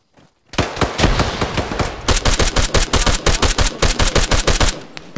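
A frag grenade blast in a tactical shooter video game, heard as a loud burst of rapid gunfire-like cracks that starts suddenly after brief quiet and continues as dense repeated bangs to the end, with no talk.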